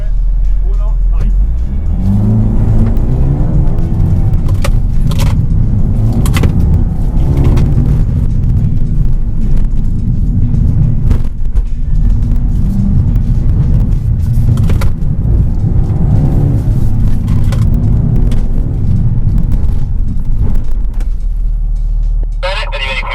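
A Mercedes AMG car drives a timed lap around a small track, its engine rumbling loudly and steadily up close with repeated surges of acceleration and revving throughout, a voice talking over it.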